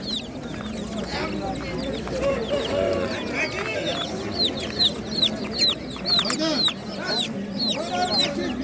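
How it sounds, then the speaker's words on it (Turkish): Many chickens cluck and chicks peep in a busy, continuous chorus close by at a poultry market in Kırıkkale, with people's voices murmuring underneath. "Bir de civcivler var."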